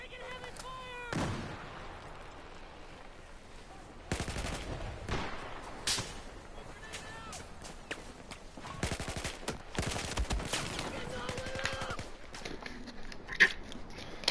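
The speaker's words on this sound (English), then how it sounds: "I'm taking heavy fire!" Heavy gunfire in Battlefield 4, scattered sharp shots and dense automatic bursts of varying loudness, some close and some distant, with voice chatter mixed in.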